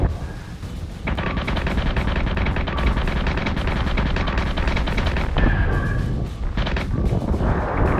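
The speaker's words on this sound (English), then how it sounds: "Mortars down the hall." Battlestar Galactica Deadlock mortar fire pounds away in a dense, continuous battle mix, with heavy booms and rapid gunfire stacking into a loud, sustained roar that briefly dips and surges again near the end.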